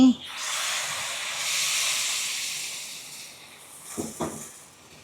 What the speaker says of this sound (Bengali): এখন আমি ঝোল দিয়ে দিচ্ছি